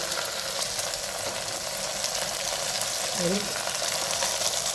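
Onion, tomato and green chilli sautéing in a pan with garam masala and coriander powder, a continuous soft sizzle at moderate level, with a brief voice in the background.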